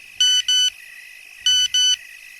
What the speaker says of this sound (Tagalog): tumunog ang kanyang cellphone.